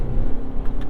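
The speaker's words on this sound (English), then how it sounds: "as soon as you let off the gas on this, the revs die down immediately" A plug-in hybrid SUV with a CVT, driven hard on a track, gives a steady, loud low engine rumble from inside the cabin as the revs settle after the driver lifts off the throttle.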